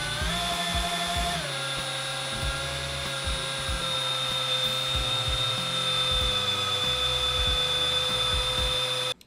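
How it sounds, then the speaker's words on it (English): A high-pitched power drill spinning a tire to break it in whines continuously and loudly, its pitch shifting slightly early on, with a low grinding rumble beneath until it cuts off. "we're gonna make sure that the drill is rotating in the same direction"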